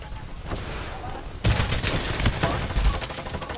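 Gunfire in the battle royale video game Farlight 84: a fairly close, dense burst of rapid shots that breaks in abruptly partway through and keeps going, with a faint stretch of game noise before it.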